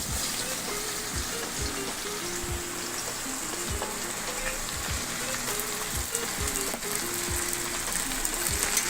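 Snake gourd frying in hot oil with nigella seeds and green chillies, a steady crackling sizzle running throughout with a low rhythmic clatter of stirring underneath, no voices.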